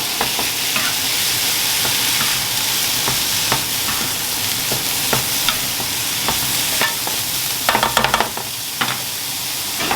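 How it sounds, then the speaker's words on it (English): Seasoned meat with paprika, Italian herbs, black pepper and garlic fries loudly in a pan, a constant close sizzle broken by frequent scraping stirs toward the end, with no voices. "Just make sure to keep it moving once the meat is in."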